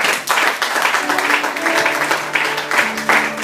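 A church congregation applauds steadily, dense clapping throughout with voices and a sustained musical tone rising underneath, loud and close.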